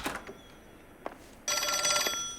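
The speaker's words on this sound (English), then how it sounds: "My phone's ringing." A phone rings in the game LA Noire Remastered, a bright old-style bell tone starting partway through after a few faint clicks and knocks, fairly close and not masked by speech.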